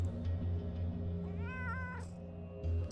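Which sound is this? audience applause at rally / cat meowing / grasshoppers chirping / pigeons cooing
cat meowing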